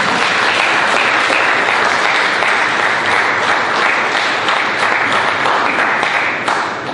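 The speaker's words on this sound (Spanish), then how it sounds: "Dale un fuerte aplauso a Jesús." Loud, sustained applause from a church congregation, dense clapping filling the whole stretch at steady volume before easing slightly at the very end.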